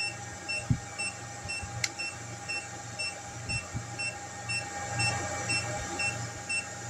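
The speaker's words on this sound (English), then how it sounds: "Inverter overload warning." A Renogy Pure Sine 3000W inverter with UPS transfer switch sounds its overload warning, a faint, evenly spaced series of high electronic beeps repeating over a low background hum and a few soft clicks.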